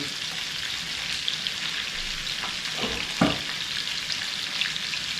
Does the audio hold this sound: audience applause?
no